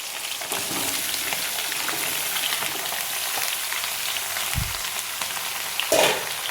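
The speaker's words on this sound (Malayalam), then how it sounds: "ഈ അവിയൽ ഉണ്ടാക്കാൻ വെച്ചേക്കുന്ന പച്ചക്കറി കഷ്ണിച്ചെല്ലാം വെച്ചേക്കുന്നത് കൂടെ ഒന്നിച്ചിടാൻ പോവുകയാണ്" Chopped aviyal vegetables (drumstick, elephant foot yam, taro, ash gourd, cucumber, snake gourd) hit a hot pan, giving a steady close sizzle and frying hiss throughout, with a few stirring scrapes near the end.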